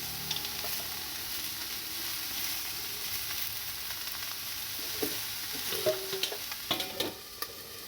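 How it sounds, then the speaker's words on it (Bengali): Vegetables stir-fried in a pan for a Bengali lunch, seasoned with salt and a green chilli, give a steady close sizzle with scraping stirs and a few sharper clatters near the end. "আবার নাড়াচাড়া করে নিচ্ছি"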